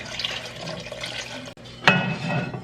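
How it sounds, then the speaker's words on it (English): Chicken stock is poured into a pot and whisked in a home kitchen, with liquid splashing and a sharp clatter near the midpoint, then steady sloshing and stirring continuing up close. "I'm going to add in a couple of cups, start whisking it"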